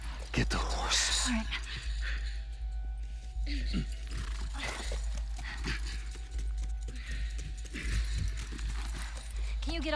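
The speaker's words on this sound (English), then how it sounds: "Justice, get the horse." A horse's hooves clip-clop at a steady walking pace in The Last of Us Remastered, fairly close and even, over a low constant background rumble, with voices murmuring now and then.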